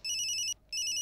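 A telephone rings in two loud electronic bursts with a brief gap between them, set in a Greek television comedy scene, with no talk over the ringing.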